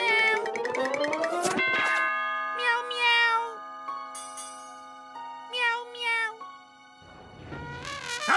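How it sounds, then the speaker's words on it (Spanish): A cartoon cat meows several times, bright drawn-out mews spaced across a few seconds, mixed with chiming bell-like tones and bouncy animated-show music. "¿qué tenemos aquí? Un tierno gatito."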